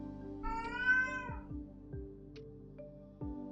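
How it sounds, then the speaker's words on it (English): A house cat meows loudly and repeatedly up close, a long drawn-out yowl followed by shorter cries, with faint background hum and soft clicks between calls. "Cat heard the microphone and she's meowing really loud"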